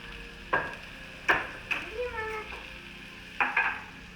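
Mushrooms and garlic cook in a pan with a low, steady sizzle, broken by several sharp scrapes and clinks of a utensil stirring them.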